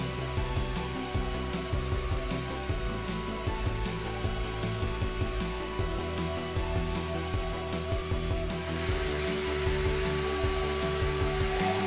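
A shop-made power feeder runs on a router table, a steady mechanical whir and hum with rhythmic ticking, continuous and fairly close, with a tonal shift partway through and no talking.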